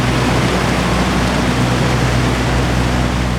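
Loud, constant roar of water pounding down, a dense unbroken rush close by.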